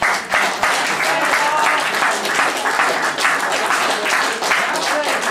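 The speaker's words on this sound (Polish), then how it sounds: "Brawa dla niej." An audience in a pub applauds the singer's mother at a poetry and song evening, a dense burst of clapping that runs throughout at full strength with a few voices mixed in.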